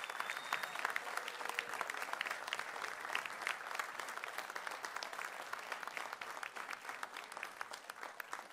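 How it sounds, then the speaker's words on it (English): A crowd at a local media awards ceremony gives winners a long round of applause, dense continuous clapping that stays steady and fairly distant throughout. "let's hear a big round of applause for all our winners this evening"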